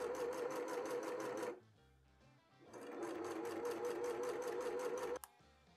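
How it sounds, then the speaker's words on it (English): Sewing machine stitching a 1950s-style Vault Suit cosplay dress: a fast, even, close mechanical whir in two bursts with a short quiet pause between, ending in a small clunk. "So I'm gonna get this sewing done and then start fabricating."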